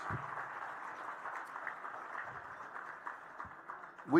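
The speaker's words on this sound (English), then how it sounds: "Absolutely, that deserves a round of applause." Audience at a sports awards ceremony applauding, a soft, distant patter of clapping that holds steady in a large hall, with a brief thump near the end.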